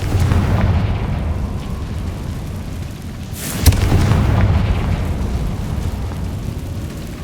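A Confringo fire spell in Hogwarts Legacy bursts with one sharp explosive crack partway through, over a steady rumbling game soundscape.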